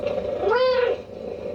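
A cat meows once on a TV show, a short, clear rising-and-falling call over a low background hum.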